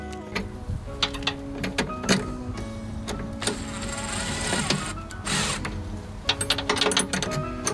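A ratchet clicks in quick, uneven bursts while seat screws are tightened down on a driver swivel seat inside a Sprinter van, close and fairly loud, with short pauses between strokes and light mechanical clatter.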